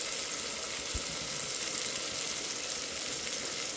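Spices sizzling in hot oil in a pan: turmeric, chili powder, coriander powder and cumin powder fried together, giving a steady, even hiss with no pauses from start to finish.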